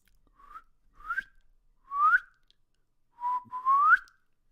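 A person whistles random, tuneless notes: four or five short rising chirps with brief pauses between them, clear and close with no talking.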